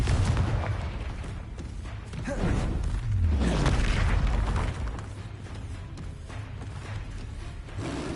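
Spell blasts go off in a Hogwarts Legacy battle: a loud burst near three seconds with a falling whoosh tail, over continuous game noise and other impacts, with the casts coming in quick succession.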